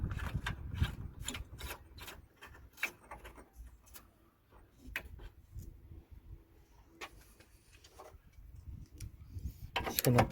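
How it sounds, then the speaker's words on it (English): Clicking ratchet-like tightening of a radiator hose clamp on a 2002–2009 Toyota Corolla during radiator replacement, a series of close, light mechanical clicks and rubs with quieter pauses between. "Just gonna tighten it."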